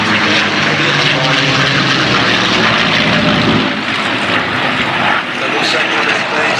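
A North American propeller aircraft roars loud and close over Duxford air show, a dense continuous engine drone with a commentator's voice running beneath it.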